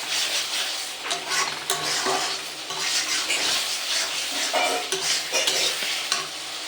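Raw green peas cooking in oil in a pan for a cauliflower rezala, with continuous loud sizzling and repeated scraping stirs of a spoon against the pan.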